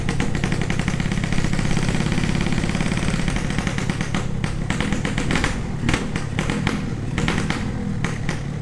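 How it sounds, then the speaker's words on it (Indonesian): A Yamaha RX-King motorcycle with a half-racing exhaust revving close by, loud and raw, with a rapid staccato two-stroke crackle that rises and falls in bursts and choppy blips toward the end. "knalpotnya begini suaranya."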